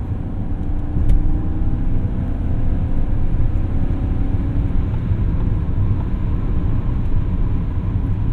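Steady engine drone of a 1998 BMW 740iL V8 sedan cruising on a highway, a constant low rumble with road noise and no speech.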